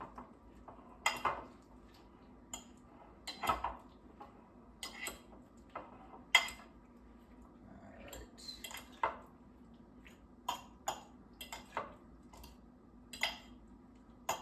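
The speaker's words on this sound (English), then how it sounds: "And we'll just mix this in." A utensil works ingredients together in a bowl for cold Qingming Festival food: scattered clinks, taps and soft scraping at an irregular pace, close and quiet, with no one talking.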